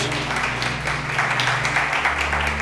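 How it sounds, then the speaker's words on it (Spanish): A church congregation applauds during a service, a steady wash of clapping over a sustained organ or keyboard drone, loud and continuous throughout. "vamos a darle un aplauso a Dios"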